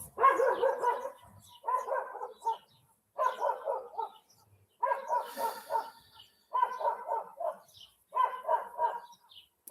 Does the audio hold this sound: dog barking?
yes